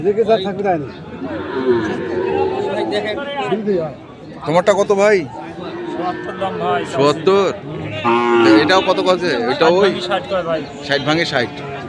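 Sahiwal bulls and calves mooing at a cattle market in Dinajpur, with several low calls rising over busy nearby talk and crowd chatter.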